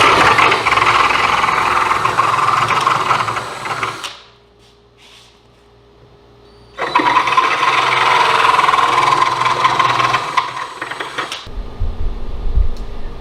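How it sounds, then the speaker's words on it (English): Power sander working the one-inch tenon on an oak chair bow, loud and steady for about four seconds, pausing briefly, then running again before stopping; no talk. "sand it down a little bit."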